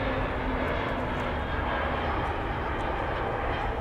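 An Airbus A321 arriving from El Paso comes in to land at DFW Airport, its engines a loud, continuous broadband roar with a faint steady whine, and no voices over it.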